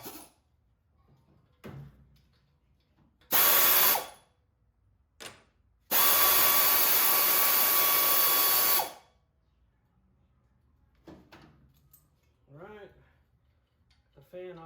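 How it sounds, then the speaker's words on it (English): A power tool, likely an impact gun, removes bolts from the water pump of a 1974 AMC Javelin in two loud bursts, a short one followed by a longer three-second run, with quiet handling noises and speech between them. "So I'm gonna take these bolts off."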